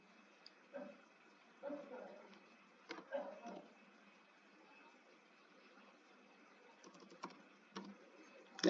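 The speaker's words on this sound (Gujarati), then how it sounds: "અહીંયા કન્ફર્મેશન ટાઈપ કરી દઉં છું" Computer keyboard typing in scattered short bursts of clicks, close but faint and thin, with quiet pauses between the bursts.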